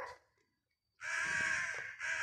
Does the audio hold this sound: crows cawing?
yes